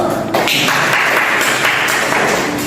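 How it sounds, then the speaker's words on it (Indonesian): A classroom audience claps for a student group returning to their seats after presenting, a dense burst of applause starting abruptly and holding steady at close range. "Kita beri aplaus dulu."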